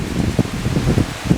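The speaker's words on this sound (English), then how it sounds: "I got the rain coming in here" Rain falling outdoors during a stormy spell, a steady close patter and hiss of drops on surfaces with no voices.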